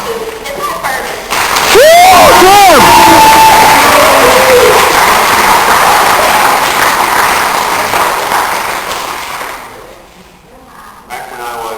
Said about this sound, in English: Please give a round of applause to Mr. Ferguson.